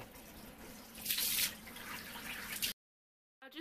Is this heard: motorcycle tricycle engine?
no